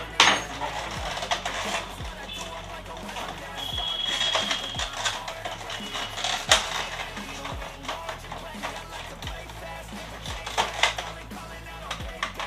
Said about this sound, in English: First remove this panel.